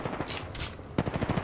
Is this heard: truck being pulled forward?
no